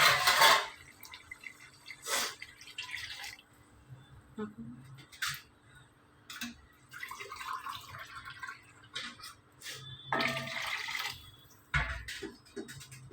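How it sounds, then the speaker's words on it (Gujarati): Water splashes into a cooking pot of goat tripe in several short pours, separated by quiet gaps and light clatter of kitchenware. "હવે આપણે 5 મિનિટ રહેવા દીધા બાદ એમાં આપણે પાણી એડ કરીશું"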